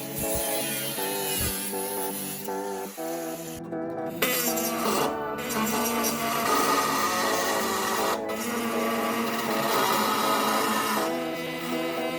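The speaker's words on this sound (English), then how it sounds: "we're going to lay a line right here and cut some metal" A power tool cuts metal on a 1963 Chevy C10 truck under restoration. The whine is steady and buzzing, close and loud, with a few brief dips and changes in pitch across the cut.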